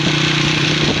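A motorcycle engine runs with a steady, loud hum on a busy road, close by, with no voices.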